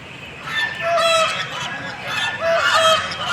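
Swans at a pond honk and call repeatedly in two loud bursts, expecting to be fed, with bird calls overlapping against open outdoor background noise.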